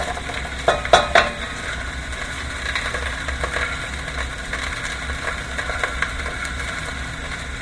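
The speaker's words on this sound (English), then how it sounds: "Sausage is cooking up really fast" Sausage links, partly frozen, fry in a very hot pot with a steady broadband sizzle, punctuated early by a few sharp clanks of utensils against the pot, with no talking.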